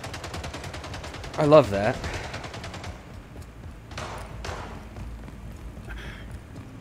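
Pistol shots in Left 4 Dead 2 crackle as a burst of sharp reports in the opening seconds over steady game ambience, followed by a couple of fainter impacts, with a voice speaking briefly.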